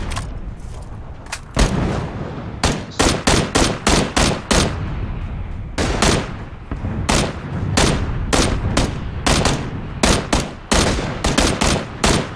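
Red zone bombs exploding in the PUBG video game, a long series of loud, sharp blasts at irregular intervals, some clustered in quick succession, near and dominant with no talk.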